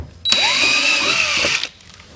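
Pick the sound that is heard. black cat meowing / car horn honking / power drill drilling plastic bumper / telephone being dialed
power drill drilling plastic bumper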